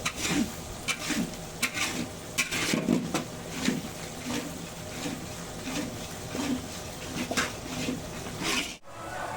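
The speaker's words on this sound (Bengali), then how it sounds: "এবার মশলাটা ভালোভাবে কষিয়ে নেব" A spoon stirs and scrapes a masala of melon seed paste and poppy seed paste frying in a pan. Rhythmic rubbing strokes repeat close by over a low frying hiss, with occasional utensil knocks.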